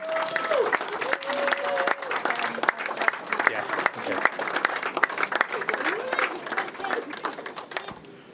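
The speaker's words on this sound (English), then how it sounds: "So let's give her a round of applause." Wedding guests break into sustained applause, a dense wash of clapping from a crowd at a reception with cheering voices and chatter mixed in, steady throughout before tapering near the end.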